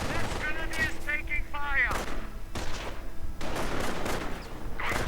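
Video-game MG-42 machine gun fire rattles in continuous heavy bursts amid other battlefield gunfire, loud and dense throughout, with a voice briefly audible early on.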